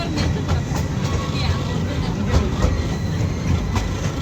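A train rumbles past a railway crossing gate nearby with a steady broadband roar and rhythmic clatter of wheels over the rails, continuous throughout.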